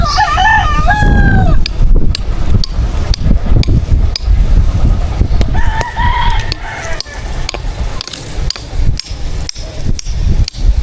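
A rooster crows twice at close range, loud over a busy farmyard with clucking fowl, scattered knocking and brief talk.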